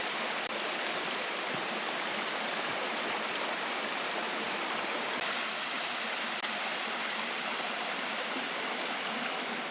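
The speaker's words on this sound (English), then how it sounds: "Nelson Falls would have to be the biggest waterfall that we've walked into so far on our Tasmanian trip" Nelson Falls, a large waterfall in Tasmania, roars as a steady, dense wash of falling water, loud and unbroken throughout with no voices.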